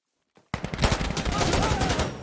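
Rapid automatic gunfire from a weapon in Insurgency: Sandstorm, a dense, loud burst of shots starting after a brief quiet moment and continuing steadily to the end.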